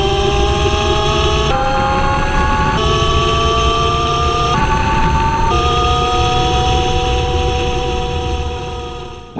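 A 2020 Kollter ES-1 Pro electric motorbike riding, a loud continuous motor whine whose pitch steps up and down in stages over steady wind and road noise, with no talking.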